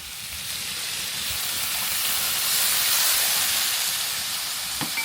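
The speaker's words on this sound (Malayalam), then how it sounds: "കുറച്ച് വെള്ളം ഒഴിച്ചു കൊടുക്കാം" A steady, loud hiss of water poured into a hot pan of duck curry, sizzling, swelling slightly and holding for several seconds with no talking.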